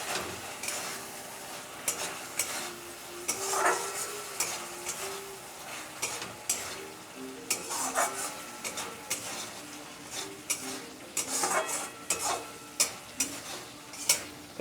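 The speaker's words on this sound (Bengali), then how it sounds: "এবার ডিম দুটো দিয়ে ভালো করে একটু নাড়িয়ে নেব।" Two eggs are stirred into a poppy seed curry in a pan, giving irregular scraping and tapping strokes of a spoon over a soft sizzle, close by and without voices.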